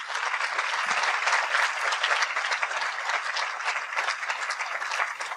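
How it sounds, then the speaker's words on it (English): An audience at a 2019 participants' meeting applauds a team being recognised, producing a dense, even roar of many hands clapping close by that holds steady for about five seconds with no voices over it. "So let's give them a round of applause."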